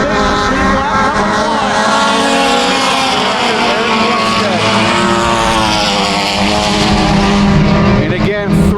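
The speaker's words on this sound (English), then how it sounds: "here comes Dan Binger like a rocket ship down the backstretch" Mini stock race cars roar around a dirt track at Genesee, engines loud and continuous with some sliding, while an announcer calls the race over the top.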